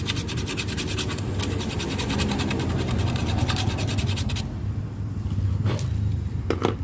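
Steady scratchy rasping as scooter clutch shoes are lightly scuffed by hand, a continuous close rubbing texture with faint rhythmic strokes and low background rumble throughout.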